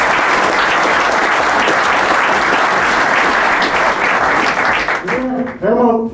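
Loud, dense applause from a football club audience honoring long-standing members, sustained evenly before a voice begins speaking over the fading claps near the end.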